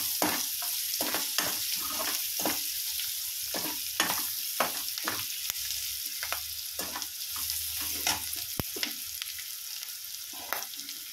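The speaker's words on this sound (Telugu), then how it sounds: "బాగా వేగాలి ఫ్రెండ్స్, బాగా వేగితే సూపర్ ఉంటుంది." Food frying in a pan and being stirred, a continuous hiss of sizzling oil broken by repeated scraping and clattering strokes of the spoon at an irregular rhythm.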